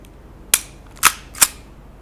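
Three sharp snapping shots from an EMG/AW Archon Type B airsoft pistol ring out close by, spaced about half a second apart, with quiet in between.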